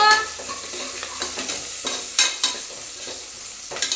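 Onions and ground masala paste frying in a pan for a fish curry, a close crackling sizzle broken by several sharp scraping strokes of a spoon.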